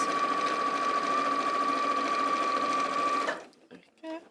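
A sewing machine stitches along the bottom edge of fabric, a steady close humming whir for about three seconds that stops abruptly, followed by a brief voice.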